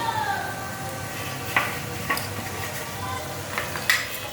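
Peas are stirred into potatoes and bori frying in a curry pan, giving a low steady sizzle with a few sharp spoon scrapes and clinks against the pan.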